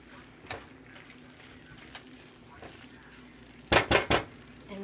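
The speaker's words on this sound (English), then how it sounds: "So I'm going to add my meat in. I'm going to stir that in a little bit." Spoon scraping and clinking in a pot as ground beef is stirred into bolognese, soft scattered taps early, then a quick cluster of three louder scrapes close by, over faint kitchen background.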